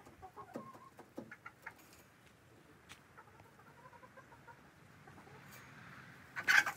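A rooster with newly introduced hens on a farm, soft clucks and short bird calls scattered across a quiet background, ending with a louder, brief squawk close by.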